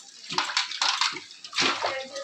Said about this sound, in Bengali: এখন মা থাল বাসন ধুয়ে নিতেছে